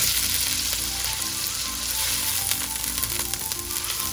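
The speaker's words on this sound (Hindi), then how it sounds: "इसको 5 से 10 मिनट तक इसको अच्छी तरह फ्राई करेंगे ताकि ये पक जाए" Chicken frying in a pan for fried rice, a dense, steady sizzle and crackle heard close, with faint humming tones and light stirring beneath it.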